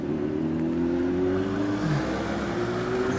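A car drives the wrong way across a one-way town bridge, its engine giving a steady, moderately loud drone with slowly shifting pitch over constant road noise.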